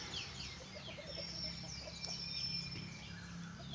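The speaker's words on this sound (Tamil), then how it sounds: "இங்கே பார்த்துருக்கீங்க ஃப்ரெண்ட்ஸ், கோழி ஒரு பக்கமும் குஞ்சுங்க ஒரு பக்கமாக இருக்குது" A hen with her chicks clucks softly while the chicks give high thin cheeps, all faint and a little distant over light outdoor background noise.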